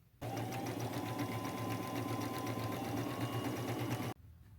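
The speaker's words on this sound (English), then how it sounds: "Now that it's all pinned, I'm going to go sew around the edges." A sewing machine stitching around the edges of a thrifted dress, one steady continuous whir for about four seconds at close range, starting and stopping abruptly.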